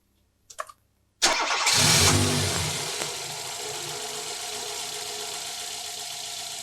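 A car engine is started during a fuel pressure check. A couple of brief clicks come first, then a loud crank catches into a roaring start that settles into a steady, even idle, close by with no talking.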